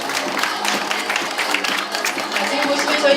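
An audience applauds at a school admissions briefing with dense, uneven clapping from many hands. It is loud and close and lasts the whole few seconds.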